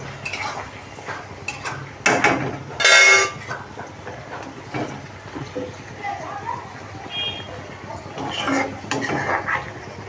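Fried food lifted out of a large cooking pot during fried rice and chicken preparation in a home kitchen: metal utensils clatter and scrape against the pot in bursts, with a sharp clink near the middle, under ongoing conversation.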